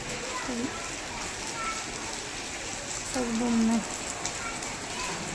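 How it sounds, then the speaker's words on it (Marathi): Steady heavy monsoon rain in Pune hisses continuously, with a faint voice briefly audible in the background. "पाऊस कंटिन्यू चालू छान करतो"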